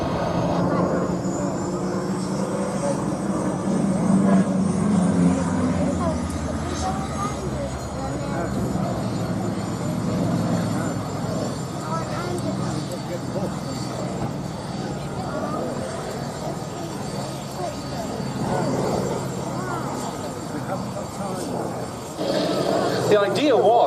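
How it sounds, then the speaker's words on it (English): A Hawker Sea Fury piston-engined naval fighter flies at the Duxford air festival, its propeller engine a steady, loud drone that holds for the whole stretch with a broad rumble, while a voice talks over it. "The Sea Fury, one of the ultimate piston-engined naval fighters."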